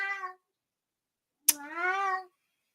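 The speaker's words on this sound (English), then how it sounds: "he loves to caterwaul" A house cat meows twice, a short harmonic cry followed after a pause by a longer, rising drawn-out wail, both close and clear with silence around them.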